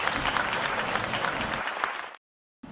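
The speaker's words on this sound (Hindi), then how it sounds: "आइए श्रृंगार के एक चितेरे कवि को सुनने के लिए जोरदार तालियां आपकी उठे" Loud, dense audience applause at a Hindi kavi sammelan poetry gathering, welcoming a poet; steady clapping for about two seconds before cutting off abruptly, then a brief return of sound at the end.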